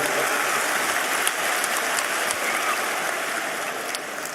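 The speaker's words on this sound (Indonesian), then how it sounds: "tepuk tangan dulu" Clapping from a large congregation at a live religious lecture gathering, a continuous hissing patter of many hands at fairly even loudness with no clear pauses.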